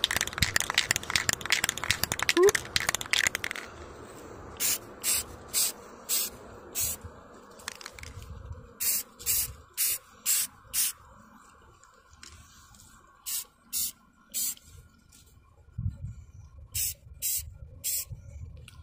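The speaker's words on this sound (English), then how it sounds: "we're just gonna go here again and dust him again with this gray" Gray spray paint dusting a custom Final Faction action figure: a string of short, sharp hissing bursts, each about half a second, fired in quick groups with brief pauses, close and fairly loud.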